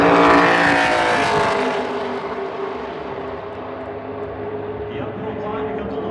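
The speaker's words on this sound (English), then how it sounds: "as he eased that car around the racetrack" NASCAR Xfinity race car lapping Phoenix Raceway during championship qualifying, a loud whining engine roar that fades steadily as the car pulls away, with commentary over it.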